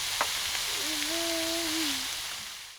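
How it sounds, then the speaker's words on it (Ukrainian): Potatoes fry in a sadj pan outdoors at a dacha, giving a steady close hiss of oil with a brief whistling tone rising partway through. "І тепер обсмажуємо картоплю."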